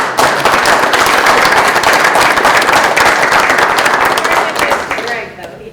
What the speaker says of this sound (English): I'd like another applause for Laurie.